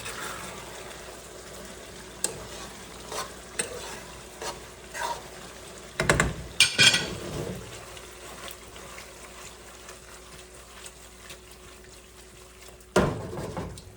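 Sweet-and-sour chicken stir fry gets tossed in a pan, with scattered scraping and clattering stirring strokes over a quiet sizzle and a louder burst of mixing midway.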